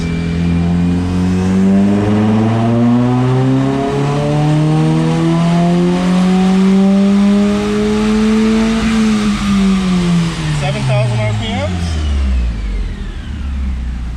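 A tuned Nissan Juke on a dyno in fourth gear, sport mode with traction control off, pulls hard from about 2,500 rpm, its engine tone rising steadily and loudly for around nine seconds before the revs fall away as it winds down.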